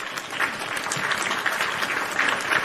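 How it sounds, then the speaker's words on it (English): Applause from a live wrestling talk-show audience, a steady dense wash of clapping that holds for the whole stretch with no voices over it. "A big yeah and round of applause"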